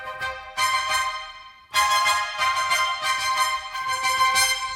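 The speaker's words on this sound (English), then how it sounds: "The trumpets, the higher they go," Trumpets play high, bright sustained notes in loud, brassy phrases, starting with a held tone, then re-entering after a short pause with strong, ringing chords and small rhythmic accents, with no talking.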